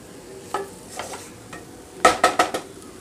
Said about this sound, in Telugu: కొంచెం ఇలా కదిలించుకుంటే సరిపోతుంది, మరీ ఎక్కువగా కదిలించకుండా ఇలా.